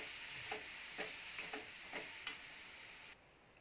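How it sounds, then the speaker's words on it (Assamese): Sugar for a Bihu pitha filling fries and melts in a pan, with soft scraping strokes about every half second over a faint, low sizzle before the sound cuts off. "ভালদৰে ভাজি লৈছোঁ।"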